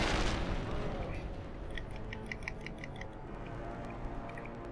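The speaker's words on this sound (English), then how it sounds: "There are a lot of random explosions around here." A loud burst opens the clip, followed by rumbling booms and scattered sharp popping blasts, like gunfire and explosions in a chaotic battle, in the video game Fallout 3.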